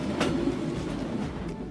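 A passenger train hauled by two engines runs through Sri Lanka's hill country, giving a steady, close, low rumble and rolling wheel noise heard from inside the carriage, with no talk.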